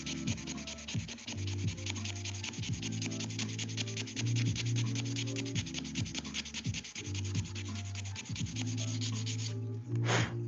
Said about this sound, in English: Now I just got to back sand to get rid of the lines.